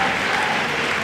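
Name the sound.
audience applause for guitarist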